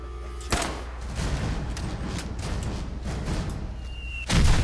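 Dense gunfire from a firefight in Fallout 4, a continuous crackle of rapid shots with thumps throughout, ending in a louder burst near the close.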